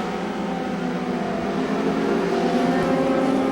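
Onboard engine of the Lynx Toyota Atlantic race car, number 19, a continuous loud high-pitched engine whine held at steady revs, with no talk.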